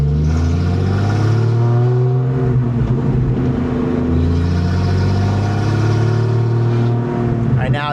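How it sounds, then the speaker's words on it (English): A loud, rough Ford Mustang engine with an exhaust leak drones steadily with a raspy, sputtering exhaust note, heard from close by and holding an even pitch throughout. "Right now it just sounds like a truck with an exhaust leak."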